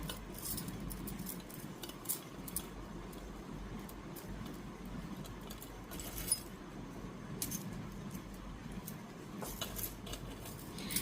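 Bangles on display in a shop during a Navratri sale clink and jangle softly as they are handled, with scattered light metallic ticks over a quiet, even background hum.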